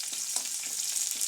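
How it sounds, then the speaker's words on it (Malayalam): Curry leaves fry in hot oil in a pan for a Kerala koottukari, giving a steady, close, bright sizzle with light stirring and no talk. "അതിൻ്റെ അകത്തേക്ക് ഞാൻ കുറച്ച് കരിവേപ്പില ഇട്ട് കൊടുത്തു. ഇതെല്ലാം കൂടെ ഒന്ന് നന്നായിട്ടൊന്ന് മൂക്കട്ടെ കേട്ടോ."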